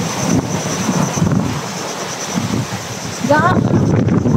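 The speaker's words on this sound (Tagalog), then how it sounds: "malakas yung hangin" Strong wind buffets the microphone at a scenic outdoor spot, a steady loud rushing roar with gusty surges, joined by a brief whistling tone near the end.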